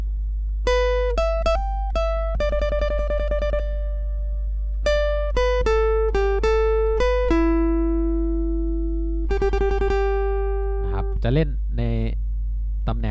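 A clean guitar plays the picked intro melody of a song, single notes and quick repeated strums, ringing clearly with no voices.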